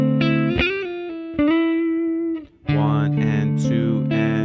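An electric guitar plays an RnB skate riff with quick string slides, pull-offs and ringing notes, loud and close, with a brief drop in level midway before a bright strummed passage.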